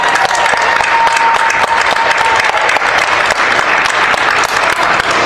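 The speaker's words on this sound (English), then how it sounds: "please give them a round of applause." Steady, loud audience applause at a congressional campaign event, dense clapping filling the whole stretch without a break.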